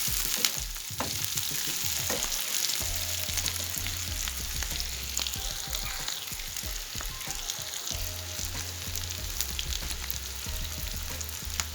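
Meat and potatoes fry in a pan with a dense, steady sizzle and crackle, close and constant, broken by clattering stirring noises while a low hum runs beneath; nobody speaks.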